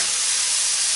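Steak sizzling loudly in a hot pan, a dense, even hiss of frying that holds constant without pause, close and alone with no voices.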